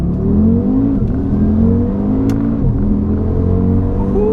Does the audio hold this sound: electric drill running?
no